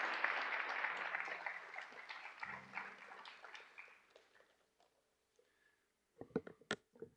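Audience applause at a high school graduation and award ceremony, steady clapping that gradually thins and dies away, followed by a few sharp, close knocks or claps near the end.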